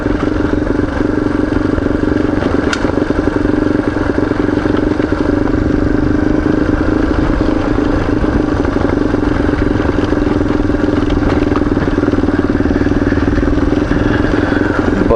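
Motorcycle riding along hard-packed dirt and loose gravel on Tatham Gap Road, a loud, steady engine drone up close with tires rumbling and crunching over the surface and occasional clatter, no talking.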